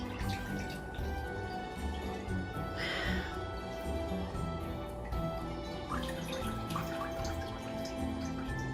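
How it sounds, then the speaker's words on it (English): Liquid drips and trickles softly as preserved eggplant is squeezed in a cloth, a faint, irregular patter of drops with some handling noise. "I'm gonna put them all in here in the cloth because we're gonna squeeze again. So we get rid of all this liquid now."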